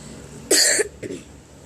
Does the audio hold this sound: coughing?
yes